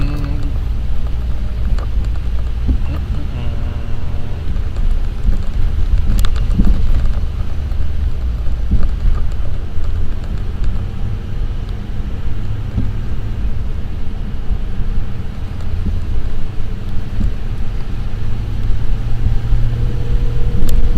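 A car driving on wet roads with snow still falling, a loud steady rumble of tires and engine with continuous hiss from the wet surface, no talk.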